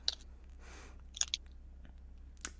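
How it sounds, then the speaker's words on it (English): A person bites into a pine cone, giving a few sharp close crunching snaps followed by soft chewing sounds in a quiet room. "I wanna hear that pine cone crunch."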